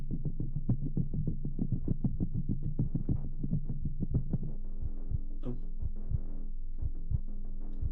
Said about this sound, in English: I have a heartbeat in my ear now